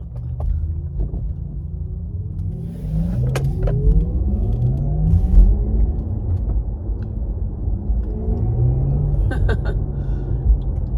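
Inside a rear-wheel-drive Porsche Taycan, the optional synthetic electric motor sound plays while driving, a smooth tone that rises and falls with speed over a low road rumble, with a few small cabin clicks.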